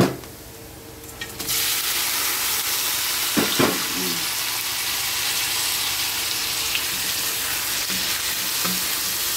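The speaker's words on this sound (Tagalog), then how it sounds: "Igisa po natin mabuti yung hipon para hindi malansa." Shrimp fry with garlic in a hot pan, giving a loud, steady sizzle that starts abruptly and holds throughout, with a few stirring clatters against the pan early on.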